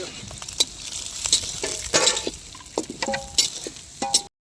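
Food fries in heated oil in a home kitchen, a soft sizzle punctuated by sharp stirring scrapes and clinks of a utensil against the pan, with faint talk in the background.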